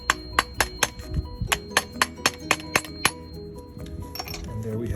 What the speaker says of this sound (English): hitting on this with the screwdriver, flathead, and a hammer in order to